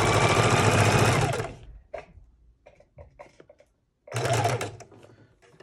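Sewing machine stitching junk journal pages, two loud close bursts of rapid mechanical running separated by quiet pauses with small clicks and handling.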